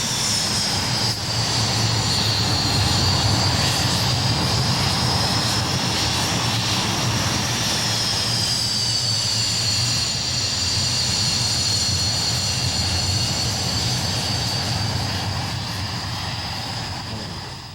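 A Hawker Hunter T-8M jet, first flown in 1958, roars steadily with a high engine whine and broad rumble for the whole stretch, loud and close, with the pitch sliding slightly as it passes.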